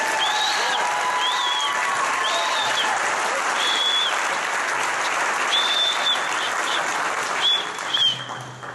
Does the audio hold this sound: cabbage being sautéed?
no